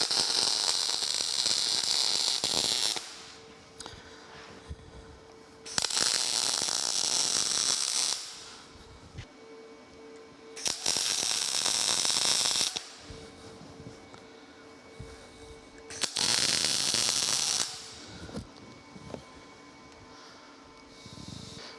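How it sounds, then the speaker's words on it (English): Arc welding along the top beam of a steel gantry crane: four loud bursts of harsh crackling hiss, each lasting two to three seconds, separated by quieter gaps with low hum and faint clatter. "we'll go ahead and weld around this side as well"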